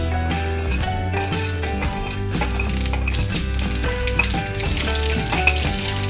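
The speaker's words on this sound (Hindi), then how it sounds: "मैं राई और जीरो गिरूँगी।" Mustard seeds and cumin sizzle and crackle in hot oil in a pan, a constant frying hiss running underneath steady background music.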